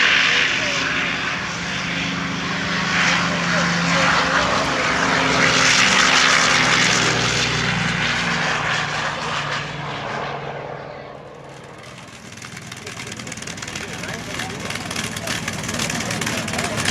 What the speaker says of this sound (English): Let's take a listen to the Corsair